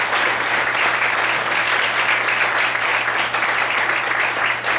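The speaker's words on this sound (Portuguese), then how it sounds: "Você pode aplaudir ao Senhor com forte alegria." A church congregation applauds with joyful vigour, a dense and steady roar of many hands clapping together that stays loud and sustained throughout.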